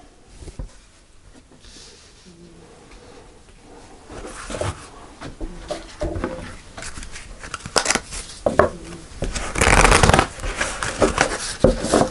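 Tarot cards being shuffled by hand, soft papery riffling and sliding that starts quiet and grows busier and louder toward the end, close up with no talking.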